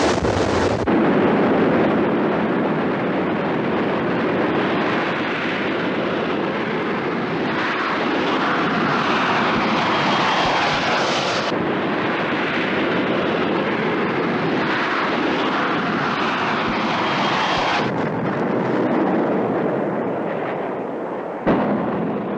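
A Harrier jet makes a rolling vertical landing on a paved highway, its engine a loud, continuous roaring blast that holds for the whole stretch with slight surges and dips and no talk.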